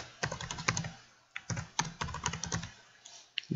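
A project name typed on a computer keyboard in Visual Studio, with clear, close key clicks in quick bursts separated by short pauses and no talking.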